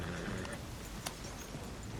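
Horse hooves clip-clop steadily at a trot over a continuous ambient background, with no clear voices, in the video game Red Dead Redemption 2.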